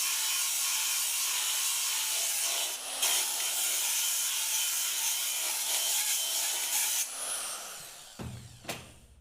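An 80 grit radial bristle brush strips coating from a metal part, giving a steady close abrasive rubbing hiss that runs for several seconds before cutting off, followed by a few faint handling knocks.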